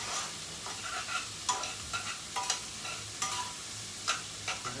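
Onions and carrots sizzle in a pan for Italian wedding soup, with repeated stirring scrapes and clanks in an uneven rhythm over a steady frying hiss.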